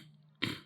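A short, loud throaty burst after a quiet lead-in, a single rough clearing of the throat heard close up with no talk over it.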